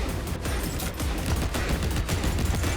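Rapid gunfire bursts from a Mortal Kombat 11 video game trailer, dense and continuous across the clip with overlapping shots, no speech.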